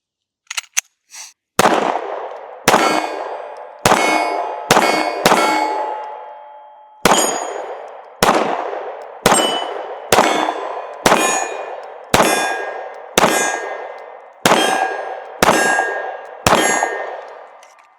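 Pistol shots fired through a Glock OEM magazine, about fourteen sharp, loud reports in an irregular string, a few quick pairs and one longer pause, each ringing out briefly.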